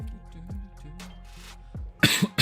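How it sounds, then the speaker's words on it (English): A man coughs repeatedly while playing a game, a few harsh throaty coughs close to the microphone, irregularly spaced, ending in a louder, sharper cough. "sorry for all this coughing"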